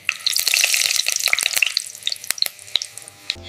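Bay leaves and cardamom crackle as they temper in hot oil for a Sprite-flavoured rice dish, giving a dense, bright sizzle with sharp pops that thins into scattered spits toward the end, close and without any talk.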